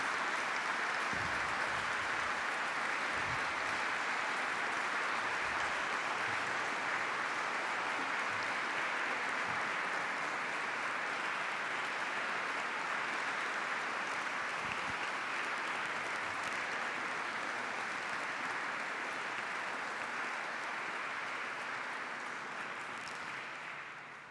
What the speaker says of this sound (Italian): ancora un applauso e un ringraziamento al gruppo d'Archi Veneto e al maestro Maffeo Scarpis